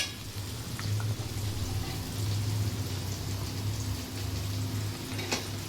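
Onions fry in hot oil with a continuous, fairly close sizzling crackle that holds steady throughout, with a faint tap or two near the end.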